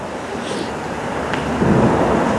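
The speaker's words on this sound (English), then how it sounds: "it sounds weird under here with the cars going across." Cars crossing a bridge overhead, heard from the underpass below by the River Don at night, make a loud, steady, hollow rumble with no voices.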